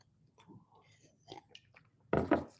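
Someone chews a sheet of paper, with soft wet mouth sounds and faint crinkles, then a louder burst of crunching chews near the end, close to the mic.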